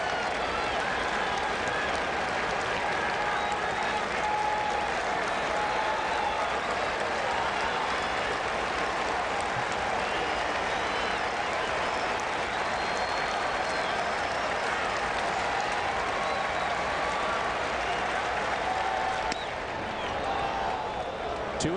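A baseball stadium crowd at a 2008 Cardinals vs Mets game roars and applauds steadily for two strikes on a Cardinals third baseman, a dense, sustained wash of cheering that stays loud throughout.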